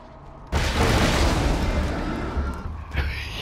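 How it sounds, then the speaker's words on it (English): A grenade explodes in Borderlands 2 with a sudden, loud boom that trails into a long rumbling roar, and a second smaller burst follows near the end. "That's a pretty good grenade."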